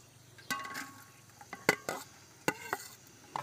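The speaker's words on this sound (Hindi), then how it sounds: "तो बार घी हमने डाल दिया, तो अभी इसमें प्याज ऐड कर रहे हैं।" Chopped onions go into hot ghee for a village-style chicken pulao, giving a faint sizzle beneath several sharp clinks and scrapes of a utensil stirring the pan, close by.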